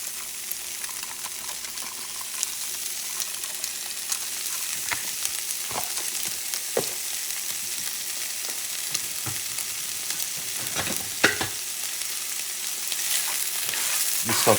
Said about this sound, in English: Just sauteing this a little bit.